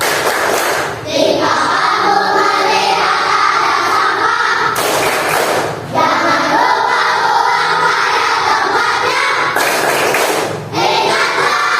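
Schoolchildren in an Indonesian classroom perform a rhythmic clapping chant about rubbish, with loud repeated bursts of claps and group voices in a steady beat, pausing briefly between phrases.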